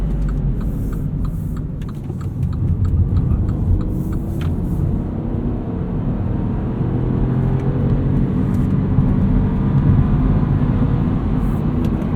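From inside, a 2019 Mini Cooper two-door hardtop with a six-speed manual accelerates hard from 0 to 60, a steady loud engine drone with a short dip at a gear change and road roar throughout.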